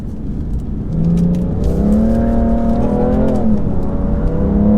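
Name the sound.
BMW M3 Competition accelerating and revving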